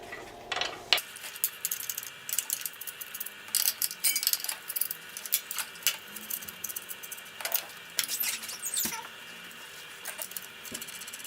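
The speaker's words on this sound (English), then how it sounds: "we're going to undo these 4 bolts here with the lock nuts on and completely" Two M13 spanners turn bolts and lock nuts on a tile wet saw, giving close, quiet metallic clinks and scraping ticks in an irregular patter.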